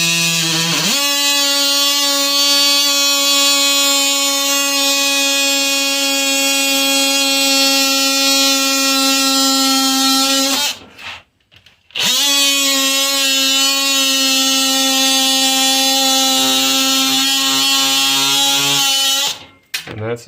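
A Sawzall reciprocating saw cuts steadily during a remodel, loud and close with a strong buzzing drone, stopping briefly partway before starting again and cutting off near the end.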